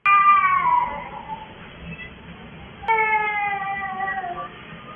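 A cat meows in two drawn-out, plaintive calls, one at the start and one near the middle, loud and close against a quiet background.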